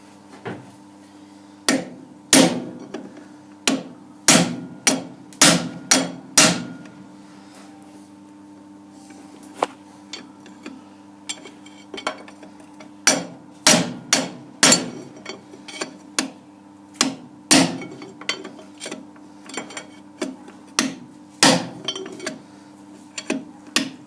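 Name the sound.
hammering a punch onto a lathe headstock bearing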